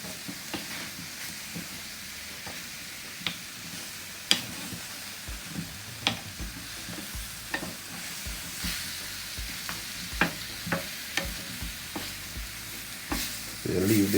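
Curry chicken frying in oil in an electric skillet, a steady sizzle and hiss with scattered pops and crackles throughout, close and fairly quiet, swelling louder at the very end.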